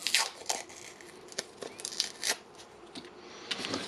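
Paper pulled out and crinkled on a workbench during a Bosch ProCore battery repair, close, loud bursts of crumpling and rustling in irregular handfuls with short pauses between.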